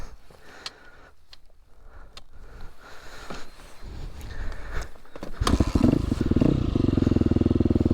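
KTM dirt bike on a wet, soaked single-track trail in Luzern, Michigan: faint ticks and clatter at first, then the engine catches and settles into a loud, close, steady idle rumble.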